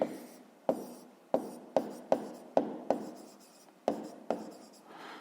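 A pen or pencil writes out a fifth-grade math exercise by hand, each stroke starting with a sharp tap on paper and trailing off, about ten strokes in a quiet room.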